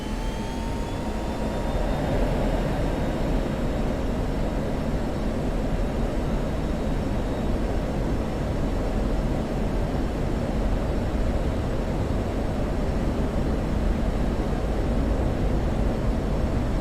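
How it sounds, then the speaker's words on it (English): An F-16 jet engine in the DCS flight game roars on afterburner, a loud, steady broadband rush with a faint whine rising early on, sustained alone with no talk. "And afterburner."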